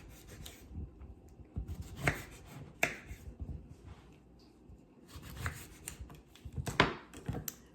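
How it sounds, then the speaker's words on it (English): A knife cuts fresh lemons in half on a board, giving several short scraping, crisp slicing strokes spread across a quiet background, close and fairly soft. "So I'm going to slice the lemon in half."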